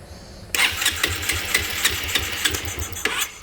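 After a brief quiet moment, a Honda PS150i scooter engine with its air filter off cranks and catches. It settles into a loud, close, rhythmic running chug with regular pulses and no voices.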